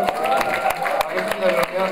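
An audience at a university concert claps before a band starts playing. The applause is moderate and evenly paced, with distinct claps heard under a performer's spoken introduction.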